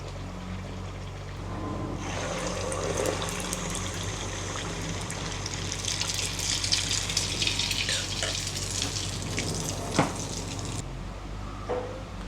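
Water poured steadily into a container in a home kitchen during a cooking session, a continuous splashing trickle that swells for several seconds and then tapers off.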